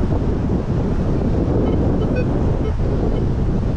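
Wind and surf on a beach in Bradenton, Florida, a loud continuous roar of wind buffeting the microphone over steady waves, with no speech.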